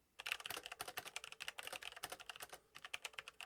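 A Logitech computer keyboard being typed on, with fast, irregular clacking keystrokes in close, quiet succession and a brief pause near the end, with no voices.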